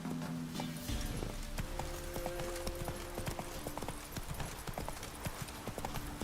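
Horse hooves in The Witcher 3 video game clip-clop at a steady running rhythm, close and continuous, with a brief whinny-like tonal sound near the start and background game music.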